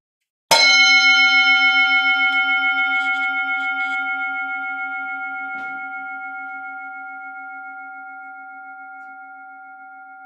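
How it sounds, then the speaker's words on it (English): A single bell is struck once to open a board of directors meeting, ringing out clearly and alone with a bright, sustained tone that slowly decays over several seconds. "And Thomas Horn will ring the bell for you."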